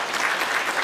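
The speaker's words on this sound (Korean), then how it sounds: "네, 큰 박수 부탁드리겠습니다." Audience applause at a civic rally calling for restoring rivers to their natural flow, a dense, steady clapping that fills the short moment at close range without pause.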